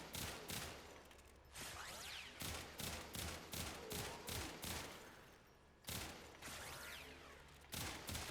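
Sicarus Prime pistol firing in Warframe, sharp repeated gunshots in quick bursts of several shots each, close and loud, with brief gaps between volleys and no talking.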